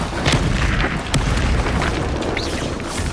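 Spell explosions from Bombarda and Confringo in the Hogwarts Legacy video game: a dense run of booming blasts and bursts with sharp onsets, loud and continuous throughout.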